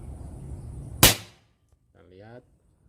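A single sharp, loud PCP air-pistol crack up close, followed by silence and then a brief indistinct voice.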